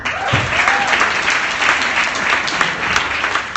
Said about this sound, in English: How about a big round of applause for the Startup Victoria Festival for organising tonight, everyone?